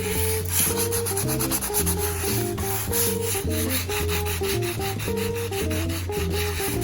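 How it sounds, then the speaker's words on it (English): Close, continuous sanding of a countertop, a dense scratchy rubbing that keeps a rapid, uneven stroke rhythm throughout with no voices. "You want to be careful when you're sanding, not to sand too far."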